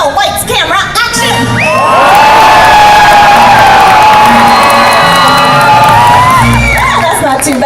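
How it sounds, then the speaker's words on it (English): Studio theme-park audience at an animal actors show shouting, whooping and cheering loudly together, a sustained crowd roar with children's high shrieks building after a brief start and holding steady to the end. "After I say action, I want this side to make as much noise as possible"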